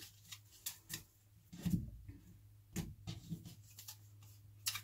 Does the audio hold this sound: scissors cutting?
yes